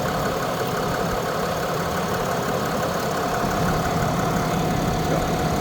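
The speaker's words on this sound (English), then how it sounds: "Cummins turbo diesel." A 2022 Ram 2500 Big Horn with the Cummins turbo diesel engine idles steadily, a continuous low rumble with a rough, knocking texture, held at an even level throughout with no talking.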